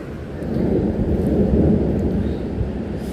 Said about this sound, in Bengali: আর বাইরে হচ্ছে বৃষ্টি নামছে আর কি ভালোই বৃষ্টি নামছে